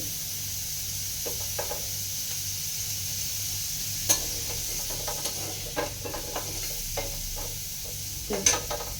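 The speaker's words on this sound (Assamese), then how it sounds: "হালধি দি দিছোঁ আৰু বিলাহী আৰু ধনিয়া পাত দিম ফ্ৰাই কৰি।" Turmeric, tomato and coriander leaves frying in a pan, a soft steady sizzle under close stirring scrapes and scattered clicks of a spoon against the pan.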